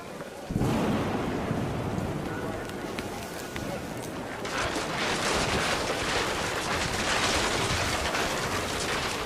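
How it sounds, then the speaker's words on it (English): Heavy rain with thunder inside the video game What Remains of Edith Finch: a loud, dense downpour roar swelling partway through, with low rumbling beneath, continuous throughout while a voice speaks over it. "The rain came down in buckets then"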